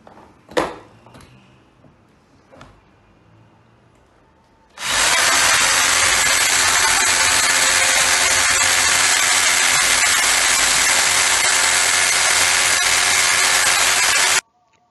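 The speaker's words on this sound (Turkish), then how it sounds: "Burada matkap yardımıyla küpün altına bir delik açıyorum." A few faint knocks and taps, then a power drill starts abruptly and runs loud and continuous for about ten seconds, boring a hole in the underside of a cube, before cutting off.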